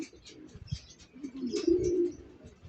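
Racing pigeons, light checkered birds, coo and flutter nearby as they come home from a 90 km training toss, a low steady cooing that builds and swells toward the end, with no talk.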